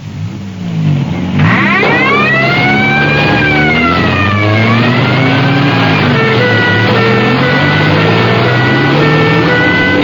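Crash tender vehicles roll onto a runway, a loud revving engine climbing and sliding in pitch after a short lead-in, holding a steady heavy drone throughout.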